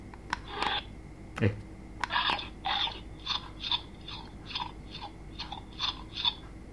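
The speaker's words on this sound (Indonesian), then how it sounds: "Nah, suara mengunyah." A baby's dinosaur toy (a Funville Dinos Unleashed T-Rex) plays a recorded chewing sound: a rhythmic run of about ten crunchy bites following a few sharper clicks, close and clear.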